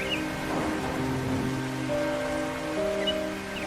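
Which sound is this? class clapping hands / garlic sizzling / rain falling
rain falling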